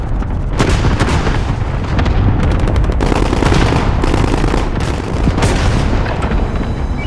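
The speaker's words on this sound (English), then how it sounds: "Allied cluster strike inbound." An allied cluster strike pounds the ground in Call of Duty Warzone, a loud, dense barrage of overlapping explosions and rapid gunfire-like cracks rolling continuously from start to finish.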